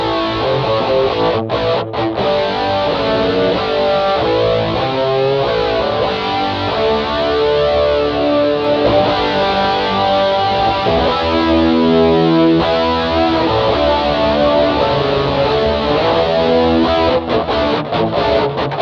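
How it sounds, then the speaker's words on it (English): MXR Rockman X100 guitar distortion unit with its chorus effect switched on: a steady, dense, heavily saturated high-gain electric guitar with a shimmering chorus wash, played continuously and loudly for the whole stretch with no talking. "Oh, kick the chorus on."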